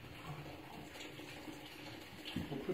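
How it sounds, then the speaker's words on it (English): Water pours from a tap into a cooking pan being readied for boiling bagels, a continuous quiet gushing stream that thickens slightly toward the end. "I want to add a little bit more water to the pan."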